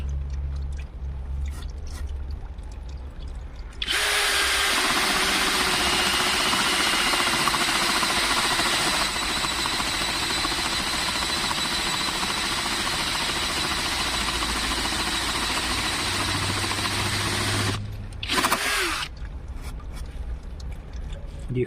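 An Einhell Expert Plus TP-CD 18/50 Li-i BL cordless drill bores a 32 mm hole with a loud, steady whine that runs for about fourteen seconds. It stops briefly, then gives a short final burst.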